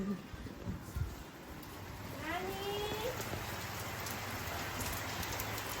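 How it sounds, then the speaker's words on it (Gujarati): Steady monsoon rain hissing across the whole clip in Kutch, with brief faint chirps and scattered voices or thumps early on. "રમઝોકાળ વરસાદ ચાલુ થઈ ગયો છે."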